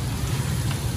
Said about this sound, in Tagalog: naglalakad kami kaya lang biglang umulan